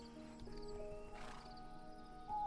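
A horse in the video game Minecraft lets out a clear neigh, with hoof clip-clops and game sound effects around it, no talking.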